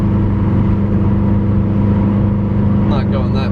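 A 2017 Subaru STI cruising along Ohio country back roads, with a steady engine and road rumble throughout and a brief whine near the end.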